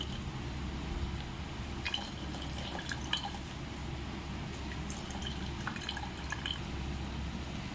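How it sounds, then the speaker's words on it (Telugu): Coconut milk drips and trickles steadily as grated coconut pulp is squeezed by hand in a kitchen, giving soft close liquid patters with scattered wet splashes and no talking. "ఇలా వడగడితేనే మొత్తం పాలన్నీ వచ్చేస్తాయండి"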